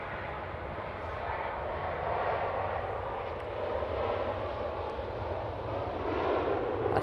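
Steady broadband roar of an aircraft in old livery at Manchester Airport, continuous and fairly loud across the whole stretch with wind noise mixed in, no distinct onset or fade.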